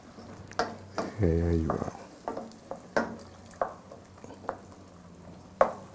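Orange-flesh sweet potato and okra masala cooks in a pan with a soft background sizzle, punctuated by sharp clinks and taps of a spoon stirring against the metal; a voice speaks briefly.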